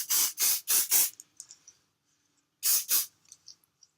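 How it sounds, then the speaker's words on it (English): Hairspray sprayed onto styled hair, four quick loud hissing bursts in a row, then a pause and two more bursts, with faint handling sounds between, close and without talk. "And then I'm going to spray that."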